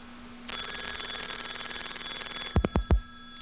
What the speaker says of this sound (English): And your computer is ringing.